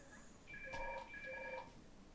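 A telephone rings nearby with two short electronic trills, quiet against a soft room background.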